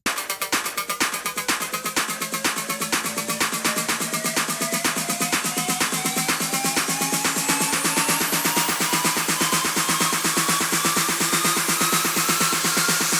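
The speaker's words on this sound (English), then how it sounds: "Just have a bunch of lifters, snare lifters, risers" Snare lifters and risers in a future house build-up: rapid snare hits accelerate into a dense roll while sweeping tones climb steadily upward, growing louder over thirteen seconds.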